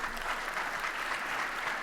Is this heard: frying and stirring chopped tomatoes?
no